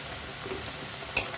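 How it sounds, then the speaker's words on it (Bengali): Dhaniya paneer masala with a spoonful of sugar being stir-fried in a pan, giving a soft, steady sizzle with faint stirring scrapes and one brief louder clink near the end. "এবার এটা ভালো করে কষে নেব।"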